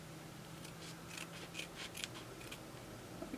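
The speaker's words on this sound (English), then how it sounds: "so I like to cut them in half" Scissors trim eyeshadow shields in half, giving a quick run of faint, soft snips close at hand in an otherwise quiet room.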